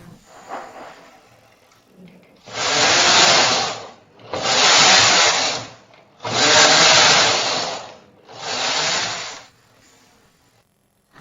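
An SK280 knitting machine knits rows as the carriage is pushed back and forth, giving four loud sweeping whooshes in a steady rhythm with short pauses between passes.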